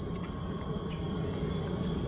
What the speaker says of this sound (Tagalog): Ano yun? Kulisap. Cricket? Kuliglig.